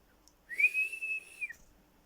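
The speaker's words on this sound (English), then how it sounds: "Whistled the whistle." A single clear whistle blast held for about a second, bright and steady, with silence before and after.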